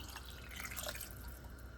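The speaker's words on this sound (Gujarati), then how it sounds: "હવે આપણે એની અંદર પાણી એડ કરીશું" Water is poured into a pressure cooker of khichdi, a steady trickling, dripping splash heard close and continuous under faint room noise.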